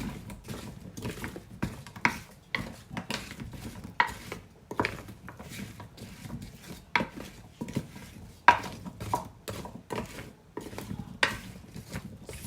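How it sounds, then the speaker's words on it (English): Cubed potatoes are tossed with about two tablespoons of olive oil in a bowl, giving soft irregular patters, knocks and scrapes against the bowl, close but quiet, with no talking. "Mix that in, make sure that you're getting all the potato has some oil on it."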